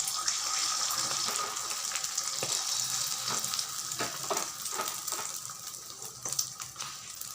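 Egg omelette with Maggi noodles frying in hot oil in a pan, giving a steady, loud, close sizzle with occasional light clinks and stirring taps.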